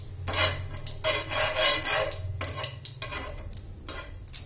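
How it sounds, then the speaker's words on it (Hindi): Dried chili and cumin sizzle and crackle as they roast in a hot pan while a spoon scrapes and stirs them in repeated strokes, close up and fairly quiet. "अभी भून रहे हैं,"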